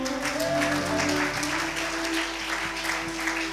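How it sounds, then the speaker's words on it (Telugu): A church congregation claps loudly and steadily together during a sermon, a dense burst of applause filling the room with a faint voice beneath it. "కొడదాం గట్టిగా చప్పట్లు."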